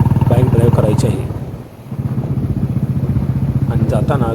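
A motorbike climbs a winding ghat road near Ambeghat towards Marleshwar, its engine throbbing in a close, steady rhythm that briefly dips and then picks back up.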